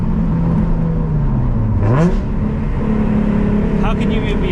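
Nissan 350Z with a naturally aspirated V6, rear-wheel drive and a six-speed manual, revving loudly and steadily, pitch dipping then sweeping sharply up before settling into a sustained drone with another quick rise near the end.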